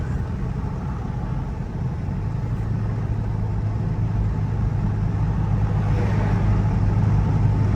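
A Scat Pack car with a loud, muffler-deleted exhaust cruises on a night drive, its deep engine drone rumbling steadily and close throughout, slowly building a little louder with no voices.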